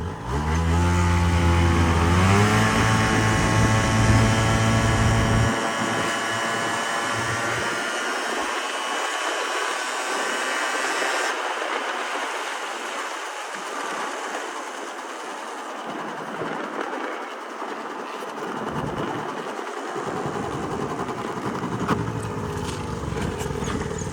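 A Yamaha Jog SA16 scooter's small two-stroke engine revs up loudly with a rising whine, then keeps droning and buzzing as it rides away, strong and continuous throughout.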